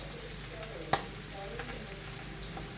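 Butter melts in a pan with bacon and green onion, giving a soft, steady frying hiss with one sharp knock near the start and faint scrapes.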